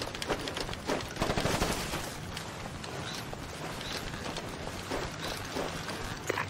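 Rapid automatic gunfire in Ghost Recon Advanced Warfighter 2, with dense overlapping bursts and mechanical clatter running continuously at moderate loudness through a chaotic firefight.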